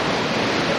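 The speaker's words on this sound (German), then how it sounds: "Zum Beispiel hier der Wasserfall, der steht halt leicht von der Pyramide ab." Steady, dense rushing of a waterfall beside a pyramid attraction at a theme park, a continuous broadband roar heard close and loud with no voices.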